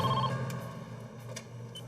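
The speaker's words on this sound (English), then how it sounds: "Later that night, the phone rang." A telephone rings briefly at night, the faint trilling bell coming through at the start over a low, steady background hum, with no one speaking.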